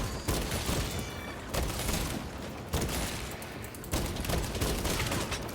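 Dense, continuous gunfire rattles through a Warhammer 40K Space Marine battle against a Tyranid invasion, bursts of rapid shots running back to back with brief pauses between volleys, loud and close with no talking.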